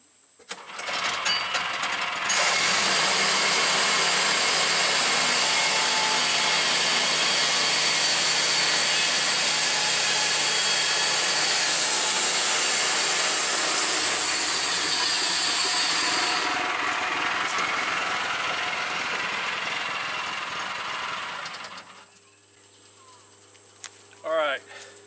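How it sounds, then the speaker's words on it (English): An electric planer cuts along a rotted log in one long, loud, steady whine lasting about twenty seconds, then spins down. A few knocks follow. "So now we're going to plane this off, and it should stop cutting somewhere around there."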